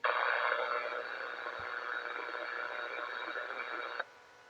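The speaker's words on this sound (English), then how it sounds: "Got a lot of noise, a lot of static, but try again." A 2 meter ham radio transmission comes through as loud hissing static with a faint garbled voice under it, then cuts off abruptly when the carrier drops.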